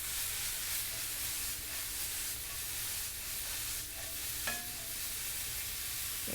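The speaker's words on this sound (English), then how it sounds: "We're basically trying to cook this flour in the butter before we incorporate anything else to it." Flour cooking in butter in a pan, a soft continuous sizzle and hiss with faint stirring scrapes and one brief clink near the end.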